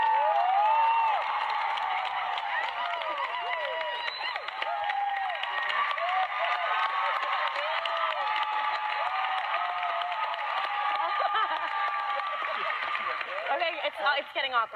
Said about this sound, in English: Let's have a round of applause for Kelly McCreary, who did such a...